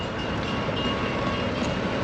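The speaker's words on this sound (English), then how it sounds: "Oh, train coming down there too, good timing." A train rumbles past close by at a level crossing, a steady loud roar of rolling wagons with a faint rattle, no voices.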